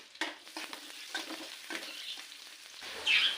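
Finely chopped onions and three green chillies fry lightly in a pan, a soft steady sizzle broken by scraping stirs and a brighter hiss flaring near the end; no one talks.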